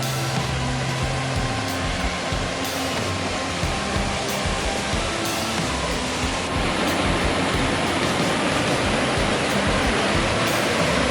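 A waterfall on a solo hike roars steadily with a dense, unbroken rush of falling water, loud and close, with no speech over it.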